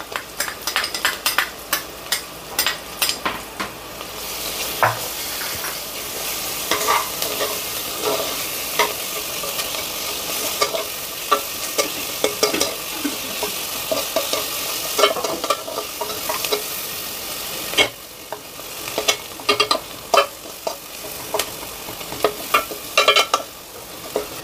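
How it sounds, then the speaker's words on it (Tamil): Ginger garlic paste fries in a hot pan, sizzling steadily while a spoon scrapes and clicks against the pan in frequent irregular strokes, with no voices. "இப்போ நல்லா வதங்கினதுக்கப்புறம் இஞ்சி பூண்டு பேஸ்ட்,"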